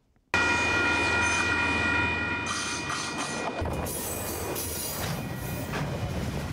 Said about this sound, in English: Hurtling through Ngaruawahia, the train nearly blows us and our tripod over.